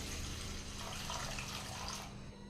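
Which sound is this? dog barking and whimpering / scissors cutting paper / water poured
water poured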